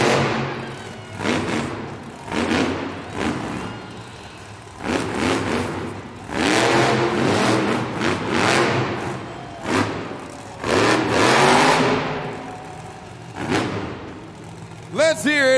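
Vendetta monster truck at a stadium Monster Jam event, its engine roaring in repeated loud bursts of revving with heavy thuds and crashes between them, the arena echo and crowd noise filling the gaps.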